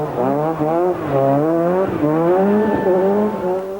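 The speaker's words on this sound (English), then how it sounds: "the experienced David Llewellyn, the car has proved highly competitive" Vauxhall Formula 2 rally car racing in the 1993 Network Q RAC Rally, its engine revving hard through rising and falling gear changes, loud and close with no talk.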